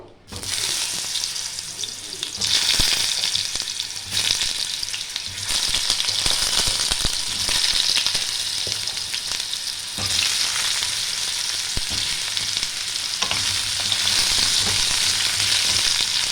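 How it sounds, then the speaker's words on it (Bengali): Vegetables fry in hot oil in a pan, a loud, steady hissing sizzle that runs close and continuous throughout, broken now and then by brief stirring scrapes, with no talking. "তেলটা একটু গরম হবে, দিয়েছি, তেলও দিয়ে দিয়েছি। দিয়ে আমি এটা একটু ভাজবো।"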